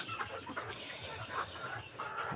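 Egyptian Fayoumi hens about six months old on an earthen floor clucking softly, scattered quiet clucks over a faint hum, fairly distant and low.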